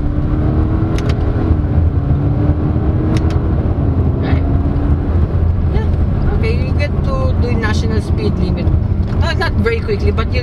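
A 2024 Subaru Crosstrek with a CVT accelerating on the road, its engine hum rising steadily from inside the cabin beneath someone talking throughout.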